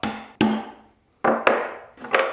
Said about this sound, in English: it's just to guide my brad point bit and hit it with a hammer to mark the spot